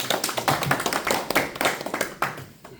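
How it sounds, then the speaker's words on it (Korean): Applause from a small audience at a Korean bus workers' union election campaign rally in Ulsan, a few seconds of fairly close, uneven clapping that fades toward the end. "큰 박수 부탁드리겠습니다."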